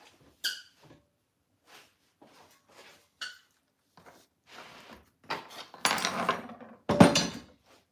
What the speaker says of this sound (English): So now I'm supposed to put them in the pan.